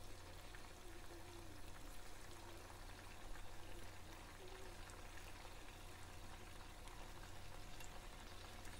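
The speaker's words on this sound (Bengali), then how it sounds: "তারপর আমি একটা পাত্রে তেল দিয়ে আমি এগুলাকে ভেজে নিচ্ছি।" Marinated chicken pieces fry in a pot of oil, giving a continuous dense sizzle and crackle that holds steady throughout with no voices.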